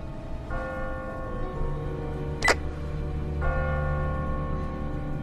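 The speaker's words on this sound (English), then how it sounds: "Ask not for whom the bell tolls." Tolling of a church bell in the video game The Walking Dead: two deep, ringing strikes about three seconds apart, each hanging and fading over a low hum, with a sharp click between them.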